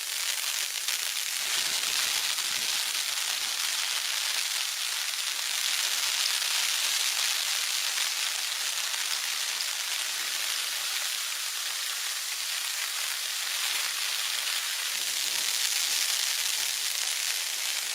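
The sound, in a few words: rain drumming on a pond outside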